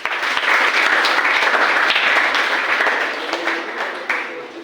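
A college audience gives loud, dense applause for a visiting speaker, sustained for several seconds before thinning out near the end, with a little talk faint beneath it.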